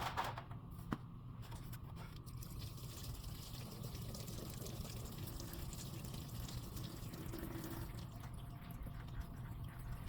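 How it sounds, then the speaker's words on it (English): Fluid leaking from a Chevy Cruze into a drain pan underneath, a steady soft trickle and patter of liquid running continuously, close by, with no voices. "got a leak out in the drain pan"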